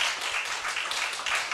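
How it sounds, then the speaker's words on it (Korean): A church congregation claps for the elementary school children during a revival service, a short, faint burst of dense applause heard from some distance. "오늘은 특별히 초등부 어린 자녀들 박수 한번 쳐줍니다."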